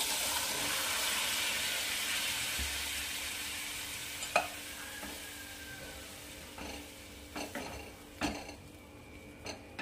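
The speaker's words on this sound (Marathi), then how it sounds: "आणि आता राजमा सोडून देऊ आपण यामध्ये आणि हे पाणी सोबतच ऍड करायचं आहे." Rajma beans and water go into a hot cooking pan for a spicy Punjabi rajma masala, giving a soft steady sizzle with a few clinks and knocks of utensils against the pan.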